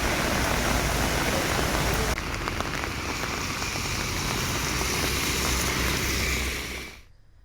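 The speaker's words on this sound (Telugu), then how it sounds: "గచ్చిబౌలి, కొండాపూర్లో కుండపోత వర్షం కురుస్తోంది." Torrential rain pours down over Gachibowli and Kondapur in Hyderabad, a dense, steady hiss of heavy drops on surfaces that stays loud throughout before cutting off abruptly near the end; no one speaks.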